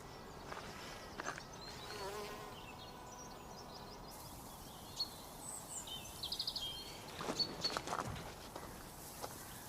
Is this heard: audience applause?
no